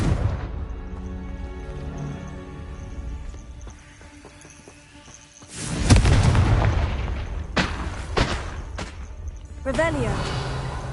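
Confringo fire spells explode in Hogwarts Legacy on PS4, a loud burst near six seconds followed by sharp cracks and another blast near ten seconds, over game music and a voice casting spells.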